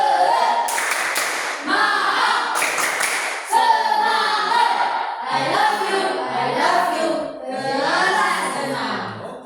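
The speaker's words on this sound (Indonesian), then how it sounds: "Tepuk semangat." Schoolchildren in a classroom do a rhythmic spirit clap, bursts of patterned clapping mixed with loud group chanting and voices that rise and fall in several phrases.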